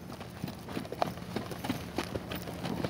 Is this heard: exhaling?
no